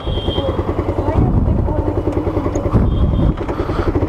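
A motorcycle engine runs close by with a throbbing, pulsing rumble, while a person talks over it.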